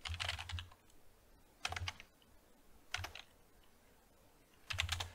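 Quick bursts of keystrokes on a computer keyboard entering an ipconfig command in PowerShell, four short clusters of close, crisp clicking separated by brief pauses.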